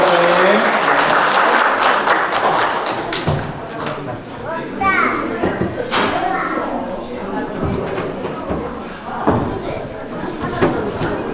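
Audience applause rises at a church ministry graduation ceremony, with scattered claps and a few thuds while people and children talk over it.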